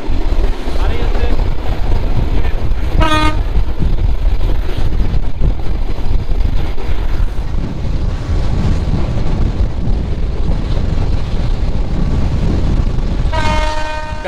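Chilahati Express train pulling out of Parbatipur railway station, a loud continuous rumble of rolling wagons with wind buffeting, and two short horn blasts, one early and one near the end.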